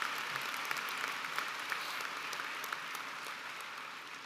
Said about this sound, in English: Please, another round of applause for the faculty, staff, family,